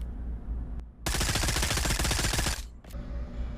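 A single sustained automatic burst from a submachine gun in the VR shooter Pavlov Shack, close and loud for about a second and a half, then a short follow-up shot, with no talking.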